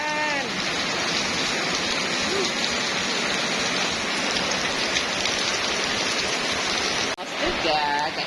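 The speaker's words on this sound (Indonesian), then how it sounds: "Mulai turun hujan. Tuh, turun hujan." Steady heavy rain falls close by, a dense continuous hiss of drops on surfaces that runs through the whole stretch with only a brief dip near the end, and faint bird calls rise over it.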